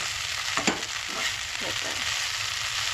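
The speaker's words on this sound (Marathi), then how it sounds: "सो सगळें हितून न्हय तें मिक्स करून घेवंक जाय. फ्लावर जो न्हय बरो भाजपाक जाय." Cauliflower being fried and stirred in a pan for a vegetarian thali, a constant close sizzle with a few soft scraping stirs of a spoon; no voices.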